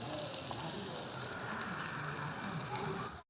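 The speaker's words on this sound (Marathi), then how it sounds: "पहिले आवाज येतोय एकदम तडतड तडतड तडतड" Food fries in a pan over a village wood-fired stove in a Maharashtrian kitchen, a close, continuous crackling sizzle that runs steadily before cutting off abruptly at the end.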